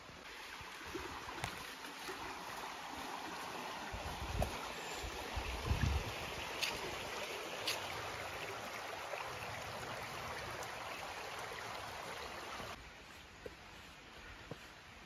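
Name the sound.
flowing stream or river in a forest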